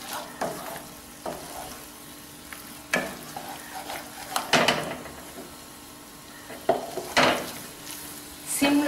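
Kodo millet dough is stirred in a pan over a low flame, giving intermittent scraping strokes and soft clatters at an uneven pace, close and moderately loud, with no talking.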